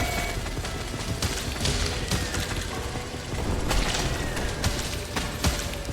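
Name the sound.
machine gun firing in Drill Core video game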